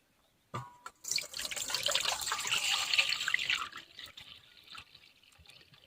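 Water poured off soaked semolina into a small bowl makes a close splashing trickle that starts abruptly, runs steadily for about three seconds, then thins to a light dribble.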